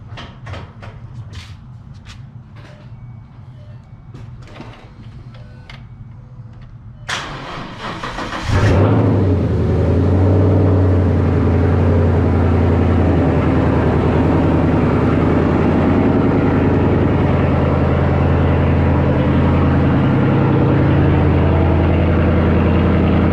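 A 2014 Ford Mustang GT Track Pack, a wrecked manual car, cranks and fires up partway through, then settles into a loud, steady, rumbling idle that fills the rest of the clip after a quieter stretch with clicks.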